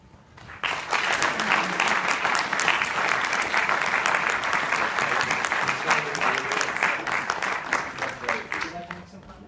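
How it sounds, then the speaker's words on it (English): An audience at an awards ceremony applauds with steady, dense clapping that starts abruptly and carries on for several seconds before tapering slightly. "we'll just have a nice handshake and a wonderful round of applause, please, for Dr. Yavruçuk."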